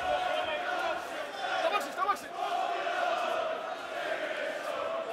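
Boxing crowd at a super-middleweight fight, a broad roar of cheering and shouting that swells briefly and stays dense, with a commentator's voice over it.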